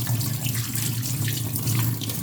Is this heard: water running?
yes